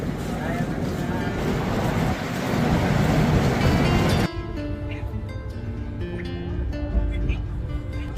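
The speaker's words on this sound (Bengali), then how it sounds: "আমাদের ট্রেন ছেড়ে দিল গয়া থেকে" Inside a 3rd AC carriage of the Rajdhani Express leaving Gaya, India: a dense, loud rushing rumble of the train in motion, dropping suddenly midway to a quieter steady hum with faint clicks and talk.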